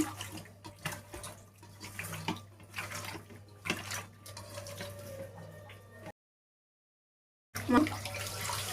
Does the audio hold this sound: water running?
yes